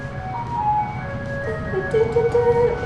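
A tinny melodic jingle plays from a passing bread vendor's van, moderately distant, over the low rumble of street traffic.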